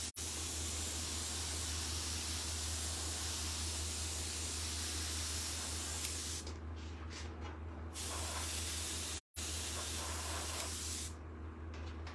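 Steady airbrush hiss sprays paint continuously onto a hoodie, close and loud, with brief pauses and one short cutoff.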